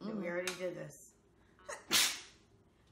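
A single sharp, loud sneeze comes right after a short bit of quiet talking and stands out alone at close range.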